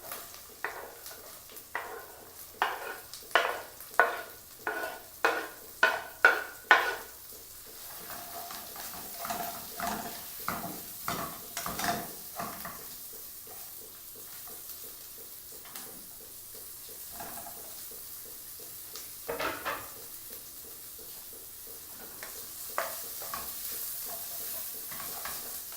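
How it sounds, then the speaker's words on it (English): Chopped small onions stir-fried in a pan for prawns polichathu, with a run of loud scraping stirs at the start, then a steady sizzle and occasional spatula strokes against the pan. "Let's fry this onion for quite about 10 minutes"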